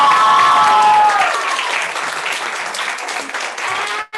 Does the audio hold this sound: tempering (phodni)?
no